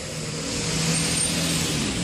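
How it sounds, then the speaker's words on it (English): Road traffic passes close by on a Jamaican hillside road, a steady loud roar of a car engine and tyres that swells slightly as it goes by, with no talk. "Traffic."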